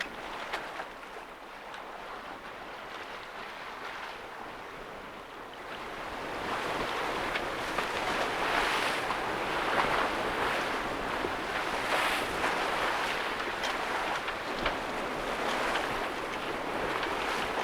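Steady rushing wind and water wash past a 32-foot sailboat sailing on the Firth of Clyde, growing louder and fuller after the first few seconds, with no voices.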